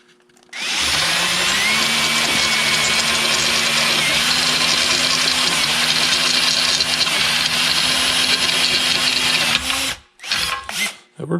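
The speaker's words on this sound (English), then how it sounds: "Gonna go ahead and try to use my taper bit, drill them through one-handed." A power drill with a taper bit whines continuously at close range for about nine seconds drilling aluminum, pitch dipping briefly as the bit bites, then stopping with a few short bursts.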